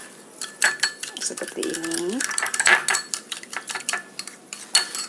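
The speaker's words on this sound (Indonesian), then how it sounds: "Ini kita aduk-aduk dulu ini sebagai saus" A metal spoon clinks and scrapes repeatedly against a pan or bowl while stirring a sauce with sliced chilies for Vietnamese-style lemongrass chicken, with a voice speaking briefly over the clatter.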